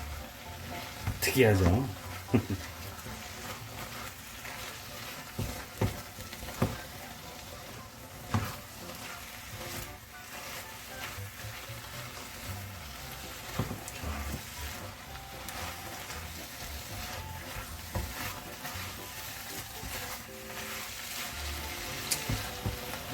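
Fine chili powder is stir-fried in tuna oil for tuna kimchi stew, a quiet sizzle with occasional stirring scrapes under a person talking.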